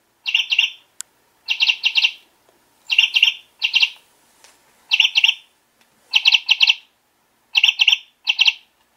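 A toy chickadee on a Moo Moo Cow Truck toy gives bright electronic chirps in quick clusters of two or three, repeating several times with short gaps between them; clear and close, with no talking.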